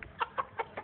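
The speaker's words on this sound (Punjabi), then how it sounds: "ਔਰ ਹੁਣ ਤੁਸੀਂ ਥੱਲੇ ਛੱਡ ਕੇ ਵਿਖਾਓਗੇ ਮੁਰਗੀ?" A hen clucks in a short, even series of four or five close clucks, with no talking.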